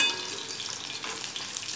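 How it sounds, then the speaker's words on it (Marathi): Onions and other poha ingredients frying in a pan while being stirred, a continuous close sizzle with soft scraping throughout. "आता मी हे सगळं एकत्र करून टाकते. मी हलवते."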